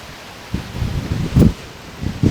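Gusts of wind buffet the microphone in low, rumbling bursts, rising and falling several times with no voices.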